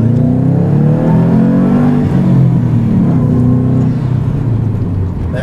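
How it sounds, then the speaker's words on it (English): A 2007 Subaru Impreza STI's turbocharged engine revs hard and steadily from inside the car, a loud continuous drone rising and falling in pitch over several seconds with no talking. "That turbo."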